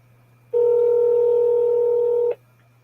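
A telephone keypad sends a single steady DTMF tone for the 0 key, held for nearly two seconds during a call to a police department line, loud and clean over a faint hum.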